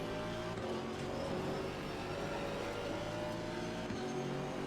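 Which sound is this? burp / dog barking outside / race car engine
race car engine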